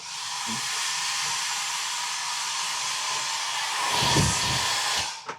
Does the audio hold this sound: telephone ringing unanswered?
no